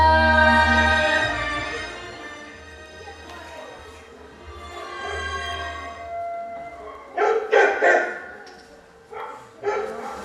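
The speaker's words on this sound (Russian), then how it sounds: "Вдруг сердито под крыльцом, пес залаял" A dog barks angrily from under a porch, several sharp, loud barks in quick bursts near the end, following a stretch of sustained music.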